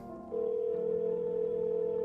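A steady telephone dial tone from the video game No, I'm Not a Human starts after a short hum and holds without a break, clear and constant, with no talk.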